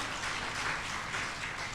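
Church congregation applauding together during a sermon, a soft, steady wash of clapping heard at a distance, brief and without speech.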